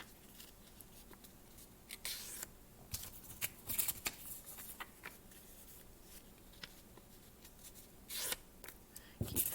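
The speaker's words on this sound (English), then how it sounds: "Just fold them in half." Paper apple pieces folded in half one after another for a children's craft, soft scattered crinkles and papery rustles, faint and close with brief quiet gaps and no talking.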